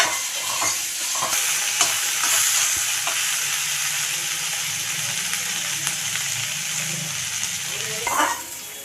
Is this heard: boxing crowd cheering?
no